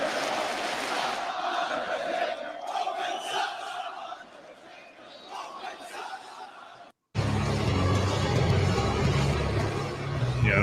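A wrestling arena crowd at Raw after WrestleMania roars and jeers in a loud, sustained wall of hostile noise, dipping briefly before a sharp cut into an even denser, nearer swell of crowd sound.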